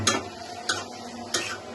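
Onions frying in hot oil in a pan, a soft steady sizzle broken by three sharp scrapes or taps of a spatula against the pan, quiet and close, no talking.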